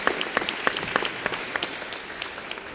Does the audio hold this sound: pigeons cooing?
no